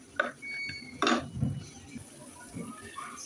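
Flattened rice and peanuts being fried and stirred in a pan, with a few sharp metallic scrapes and clinks of a utensil against the pan among quieter sizzling.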